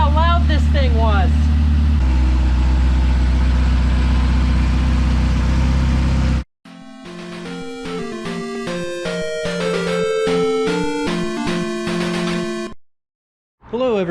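An Ecotec-swapped Mazda Miata engine idles with a deep, steady rumble beneath a person talking for about six seconds, then cuts off abruptly.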